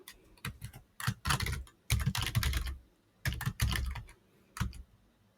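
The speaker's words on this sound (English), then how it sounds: "now if I just type in get dash admin power app" Close, clattering keystrokes on a computer keyboard as a PowerShell command is typed, coming in quick bursts separated by short pauses.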